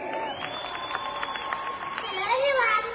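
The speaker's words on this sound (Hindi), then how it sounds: "एक बार जोरदार तालियां हो जाए इनके लिए।" An audience at a motivational leadership gathering applauds a little girl. The clapping is moderate and sits under a sustained musical tone, with faint cheering and voices mixed in.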